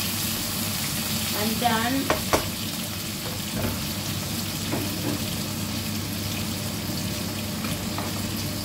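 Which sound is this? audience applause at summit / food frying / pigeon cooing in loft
food frying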